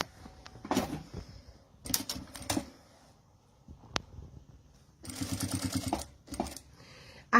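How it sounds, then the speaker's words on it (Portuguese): A sewing machine stitches along the edge of a men's fabric document holder in bursts: short runs of rapid needle rattle separated by pauses, a sharp click around the middle, and a longer steady run near the end, close and moderately loud. "A gente vem costurando ele na beiradinha e aqui fica dessa forma"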